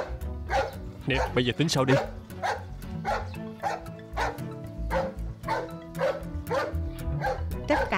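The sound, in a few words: dogs barking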